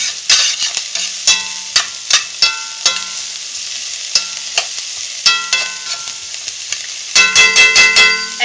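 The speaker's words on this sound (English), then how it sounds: "I'm going to saute those without a lid. And I've got it on high" Kale greens sauteing uncovered in a pan on high heat, a steady loud sizzle broken by repeated sharp scraping stirs, with a burst of quick stirring strokes near the end.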